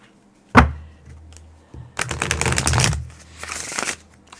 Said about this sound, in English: Dealer shuffle.